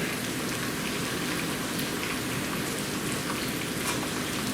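Onions, sage and a sunflower head placed face down sizzle steadily in a pan, a continuous close, even hiss of sauteing with no talk.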